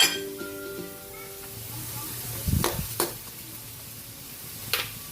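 String beans hit a hot pan and sizzle steadily while a utensil stirs them, with a few sharp metallic clinks and scrapes, and a faint voice early on.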